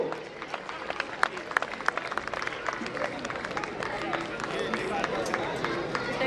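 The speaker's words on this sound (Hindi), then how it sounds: "बहुत जोरदार तालियां कम नहीं होनी चाहिए दर्शकों" Audience at a school cultural and traditional program applauds a guest comedian being welcomed with bouquets and garlands, a continuous crowd clatter of hands mixed with murmuring and a voice over the top.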